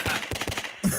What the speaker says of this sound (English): I like the gunshot.